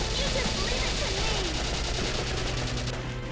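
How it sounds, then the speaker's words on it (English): Three rifles fire together in concentrated bursts in the Valkyria Chronicles video game, a dense, continuous rattle of rapid shots with a faint voice underneath. "that was concentrated fire from 3 friggin' rifles"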